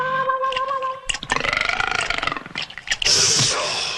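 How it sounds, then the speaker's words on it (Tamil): A tiger in a Tamil comedy film lets out a loud, rumbling, drawn-out burp after swallowing a key. The gravelly belch is preceded by brief tonal music. "ஒரு சாவி சாப்பிட்டதுக்கு ஏப்பம் விடுது"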